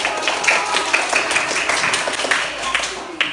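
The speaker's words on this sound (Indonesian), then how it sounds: "Tepuk tangan." Classroom applause from students clapping in a primary school lesson, a steady dense patter of many hands filling the room with a teacher's voice and children's voices mixed in.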